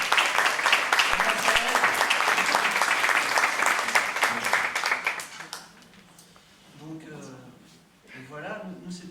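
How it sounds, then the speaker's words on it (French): Audience applause fills a stage event as a guest is invited up, a dense, fairly loud burst of clapping that fades after several seconds. Quieter murmuring and talk follow. "On l'applaudit parce que c'est grâce à elle."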